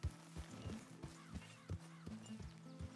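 Hooves clip-clop at a slow, even walking pace in Red Dead Redemption 2, about eight soft, close thuds over three seconds, fairly quiet and heard alone.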